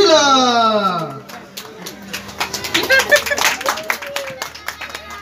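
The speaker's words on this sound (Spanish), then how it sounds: "recibimos con un fuerte aplauso desde Argentina" Audience applause at a Spanish-language comedy show, a burst of clapping and crowd noise that follows a musical passage and builds loudly under an excited announcer's voice.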